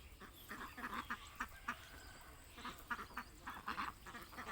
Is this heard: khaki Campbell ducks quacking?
yes